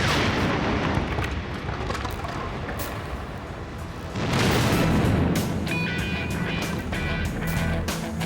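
A loud, sustained blast roar as a tree cannon sealed with 5 pounds of gunpowder explodes, surging again midway with a heavy rumble and crackling debris.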